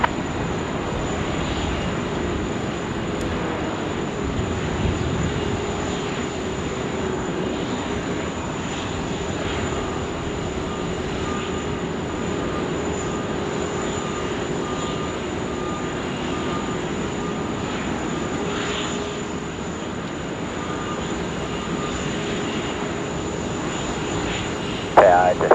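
Airliner engines at Sydney Airport drone as a steady, broad roar that swells and fades through the whole stretch, with air traffic control radio chatter at times.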